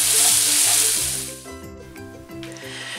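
Sausage and broccoli cooking in a pan, a loud crackling sizzle at first that quickly settles into a softer, steady frying hiss, with no talking.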